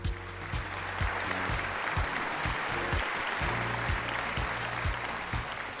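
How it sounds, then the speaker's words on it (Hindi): Studio audience applause at a Pakistan Idol gala round TV taping, a steady, dense clapping that holds loud and even throughout, with no talking over it. "आपकी मोहब्बत के लिए एक दफ़ा भाई सबकी तरफ से भरपूर तालियां।"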